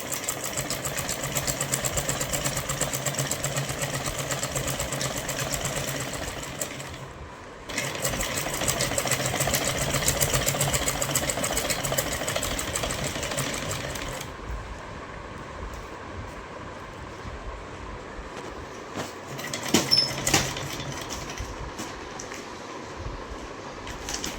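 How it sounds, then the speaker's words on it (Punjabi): A sewing machine stitches a cloth bag made from an old towel, its steady mechanical whir running loud and close in long bursts with a brief pause before it resumes. "ਤੇ ਥੈਲੇ ਨੂੰ ਇੱਥੇ ਸਿਉਂ ਲਾਂਗੇ ਆਪਾਂ ਸਾਰੀ ਸਲਾਈ ਲਗਾ ਲਾਂਗੇ ਜੀ ਇਹਦੀ"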